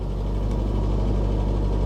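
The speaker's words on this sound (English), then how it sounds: "Oh, the engine's rattling." An old Chevy truck engine idles with a steady low rumble and a continuous rattling vibration, close and alone without talk.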